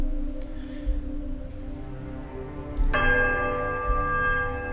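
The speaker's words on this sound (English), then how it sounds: "The bell sounds a strange warbling peal that grows to a painful shrillness before diminishing into a mournful chime." A heavy iron bell rings in ruined halls in Pillars of Eternity: one strike lands midway and leaves a warbling peal of bright, sustained overtones hanging above a low, murmuring drone.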